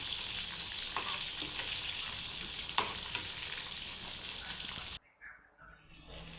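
Chicken kofta frying in a pan, a steady close sizzle with occasional sharper pops and spatters, continuing until it cuts out near the end, leaving a quieter, lighter sizzle.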